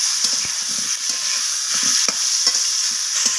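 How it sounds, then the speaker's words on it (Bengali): Cauliflower fries with salt and turmeric in a wok, a continuous close sizzle broken by repeated scraping stirs. "লবণ আর হলুদটাকে দিয়ে মিশিয়ে নিয়ে ফুলকপিটাকে আমি ভেজে নেবো লাল লাল করে।"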